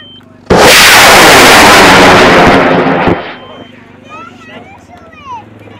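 A large high-power model rocket, the SRA rocket on an L-2375 motor, launches outdoors with a sudden loud roaring burst that holds for about three seconds and then cuts off, leaving faint background voices and distant chatter.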